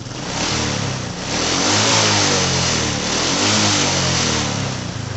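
A Honda Supra X 125 motorcycle engine prone to stalling revs loud and close, the throttle opened in two long surges that build and ease off, with a rough, throaty roar throughout.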